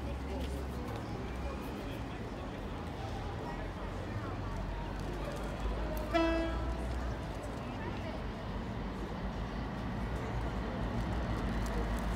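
A Class 60 diesel locomotive leads a railtour past a town level crossing, giving a deep, steady engine rumble that runs throughout, with a brief tonal note near the middle.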